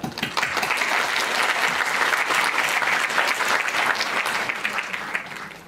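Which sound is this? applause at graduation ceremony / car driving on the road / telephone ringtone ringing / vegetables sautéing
applause at graduation ceremony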